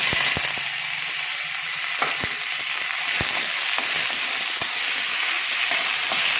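Green garlic, green chilies and onion fry in hot oil in a kadai, giving a steady close sizzle broken by occasional sharp pops and stirring clicks, with no voices.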